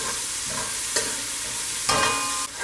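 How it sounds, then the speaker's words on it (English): Vegetables sizzle steadily in hot oil close up for Jamaican curry chicken, a constant bright crackle, with a couple of sharper scraping stirs in the pan. "While they hit a good little sizzle"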